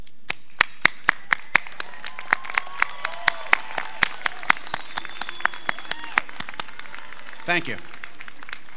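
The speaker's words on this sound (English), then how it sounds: "having the graduates stand up, face the audience, and applaud them" Hands clap at a university graduation ceremony, a series of crisp, evenly spaced claps heard up close, with a voice speaking over them and a short spoken remark near the end.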